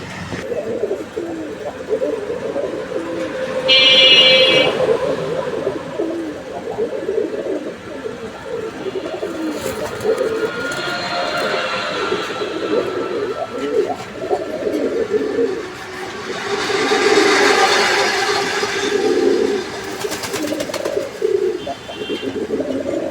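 Pigeons coo continuously at a pigeon farm, their low, throaty calls close and overlapping throughout, with occasional brighter chirps above them.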